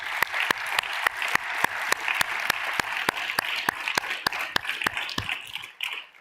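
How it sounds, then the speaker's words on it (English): An audience at a public health forum on ending gun violence applauds with a steady crowd clatter. Sharp, evenly spaced single claps ring out above it before the applause fades at the end. "let's pause and give a round of applause for those actions."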